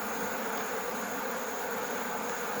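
Honeybees at an opened hive make a dense, continuous buzz, steady and fairly faint throughout, with no voices over it.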